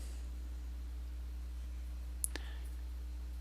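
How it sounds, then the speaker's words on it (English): A single sharp mouse click, with a faint second tick just after, sounds over a quiet, humming room. "we'll click next"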